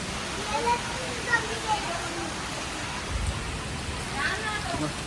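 Steady rain falls in a dense, even hiss, with a soft low thump partway through.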